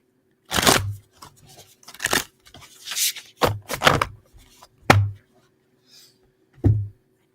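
A deck of tarot cards is shuffled close up in short, uneven bursts of crisp riffling and rubbing, with quiet pauses between the bursts.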